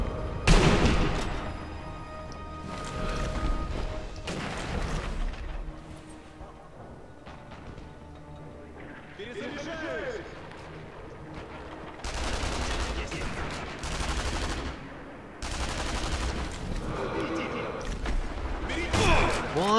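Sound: gunfire in video game Sniper Elite V2

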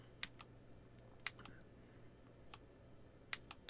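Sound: clicking the trigger of a mixed reality motion controller

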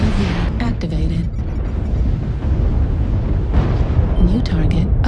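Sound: artillery strike explosions in MechWarrior Online video game

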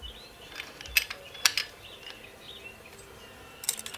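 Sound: loosening intake valve lash nut on Toyota diesel engine

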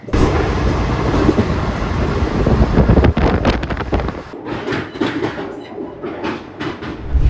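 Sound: train running, crossing the Penna river

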